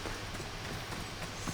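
A horse trots in Assassin's Creed Odyssey, its faint, rhythmic clip-clop hoofbeats steady under a low background wash.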